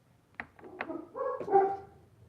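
Puppies indoors give a few short sharp yips and barks followed by a longer whimpering whine, close and fairly loud, with quiet gaps between the calls.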